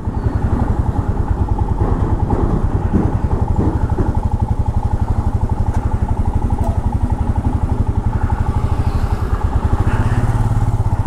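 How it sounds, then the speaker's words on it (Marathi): A vehicle engine on a mountain road in Kinnaur, a steady loud low throbbing rumble that holds close and even for the whole stretch with no pause. "अजून एक गाडी येते वाटतं."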